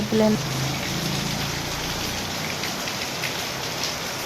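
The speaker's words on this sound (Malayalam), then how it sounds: "അപ്പോഴേക്കും നല്ല മഴ" Heavy morning rain pours in a steady, dense hiss of drops hitting surfaces, continuous and fairly loud throughout, with a brief tonal sound at the very start.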